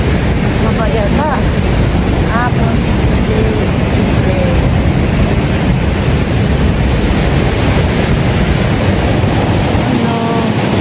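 Sea waves rolling on the coast near Bilbao, a loud constant wash heavily buffeted by wind noise on the microphone, with faint voices briefly in the background.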